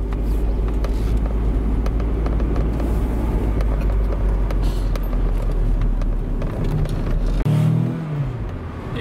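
A Toyota MR2 Mk2 engine with power mode engaged drones steadily from inside the car, a low continuous rumble with some road noise, easing off near the end.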